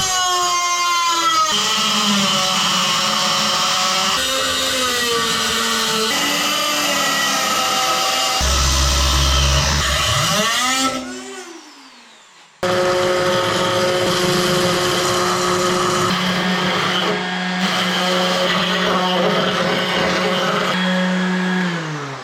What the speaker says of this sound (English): I'm going to trim off a little bit. So that's what I'm going to use the Dremel for